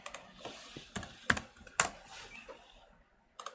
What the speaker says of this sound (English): And I will type A.